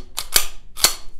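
A Bul Armory Cherokee Compact pistol is checked for safety with three sharp, close metallic clicks in quick succession, the first two near together and the third after a short pause.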